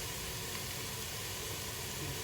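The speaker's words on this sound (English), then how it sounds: "You hear it sizzling, it smells good." Ground pork crumbled into a hot pan sizzles with a steady, even hiss that holds at a low, constant level throughout, with no voices over it.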